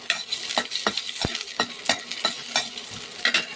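Green chillies being sautéed in a pan for macaroni pasta: soft, irregular spatula scrapes and taps over a light, constant sizzle, close by and fairly quiet.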